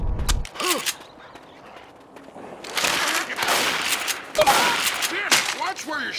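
Bursts of automatic gunfire from the video game Left 4 Dead 2, rapid rattling volleys that start and stop over several seconds, loud and close.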